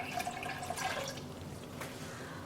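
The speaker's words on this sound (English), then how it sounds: "I am going to pour plain water in." Plain water pours into a pot holding mason jars, a soft, close trickle and gurgle with light splashing that runs steadily for a couple of seconds and eases off slightly toward the end.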